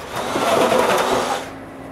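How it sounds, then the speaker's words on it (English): Drilling with an auger bit finishes the latch hole in a wooden interior door, a brief close whirring grind lasting about a second and a half before dropping away. "I finish the hole with an auger bit."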